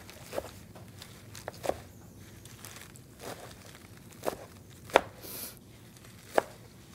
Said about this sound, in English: I just gave it a rough chop all the way down.